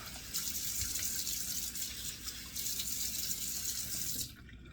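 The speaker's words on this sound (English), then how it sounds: "Just running it cold out of the tap." Cold water runs steadily from a tap into a sink in a bathroom grooming routine, a loud close splashing hiss that stops abruptly near the end.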